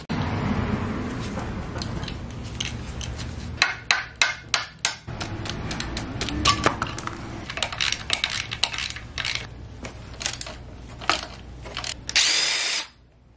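Power tool and hand-tool clatter while undoing bolts on a BMW E46 M3 SMG shift actuator under a car on jackstands: sharp intermittent metallic bursts and taps with short whirring runs, fairly close.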